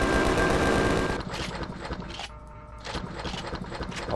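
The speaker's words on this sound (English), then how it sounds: "I'll probably run out of ammo very quickly with this, as fast as this thing is shooting everything." A truck-mounted gun in the survival game Empyrion firing rapid bursts, loud and dense at first, then continuing as quicker, lighter shots over engine rumble.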